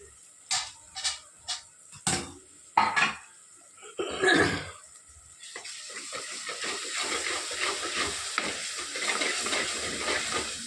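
Frying in a pan: several sharp clanks and scrapes of a spoon against the pan come first, then a steady close hissing sizzle with light stirring takes over and runs to the end.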